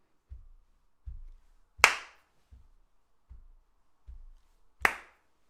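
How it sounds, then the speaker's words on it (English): Two bright, sharp hand claps stand out between soft, evenly spaced low beat taps, during a sing-along music session clapping on beat three. "Clap on the 3"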